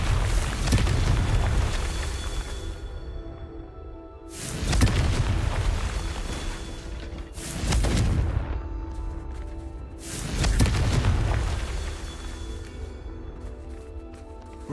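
Confringo fire spell blasts in a Harry Potter video game, three loud, deep rumbling booms that swell and fade over a constant roar of game noise, with no talk.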